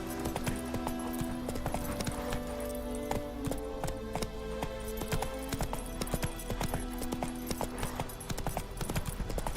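Roach, the horse in The Witcher 3, gallops with dense, continuous hoofbeats, close and steady, over a humming game soundtrack, with a brief faint whinny.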